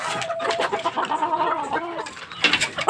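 A stag gamecock clucking and muttering in short rough bursts, close by, with some background bird and farmyard noise and a louder squawk near the end.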